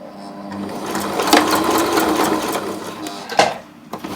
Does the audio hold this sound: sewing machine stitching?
yes